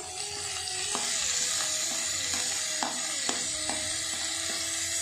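Fresh spinach drops into a hot pan with green chilies, giving a steady, close sizzle with soft stirring scrapes and a few clinks throughout, no talking.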